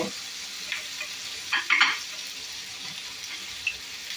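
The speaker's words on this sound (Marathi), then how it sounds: "या सगळ्या भाज्या आपण तेलावर छान परतवून घेतल्या." Beans, carrot pieces, jujube berries and brinjal sautéing in oil over medium heat, a low steady sizzle with a few brief clattering stirs of a spoon, close and fairly quiet.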